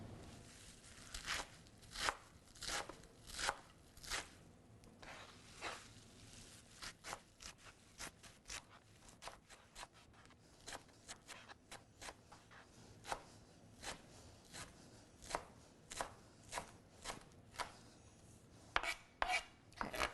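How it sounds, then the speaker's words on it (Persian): A knife chops parsley, mint and celery leaves on a board in a long run of crisp, rhythmic cuts, close but fairly quiet, with no talking. "سبزیایی که اینجا من دارم جعفری، نعنا و برگ ساقه کرفسه که من اینا رو خردش میکنم"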